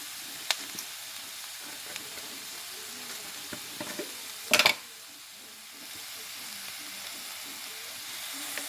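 Ginger frying in a pan for a ridge gourd masala curry gives a soft, steady sizzle with a few light clicks, broken midway by a brief, loud burst of sharp hissing before it settles back down.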